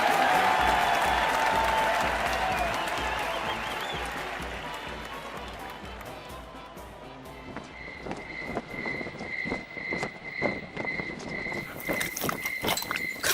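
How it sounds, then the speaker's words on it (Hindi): An audience applauds loudly at a stage show, dense clapping that slowly fades, then gives way to scattered claps, clip-clop hoof-like knocks and a whistling tone. "अशोक जी के लिए फिर से एक बार जोरदार तालियां"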